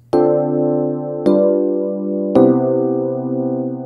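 Three sustained jazz chords sound in turn, a ii minor 7, V dominant 7 and I major 7, each struck cleanly about a second apart with no talk, the last one ringing on to the end.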